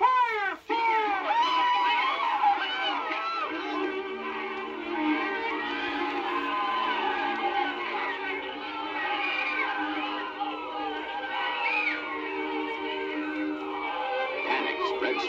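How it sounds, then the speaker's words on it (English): A panicked crowd screams and shouts in an auditorium as fire breaks out during a radio drama, with shrill cries, wails and yells layered densely throughout, with voices overlapping. "Panic spreads through the crowd like a plague as smoke begins to roll from the back of the auditorium."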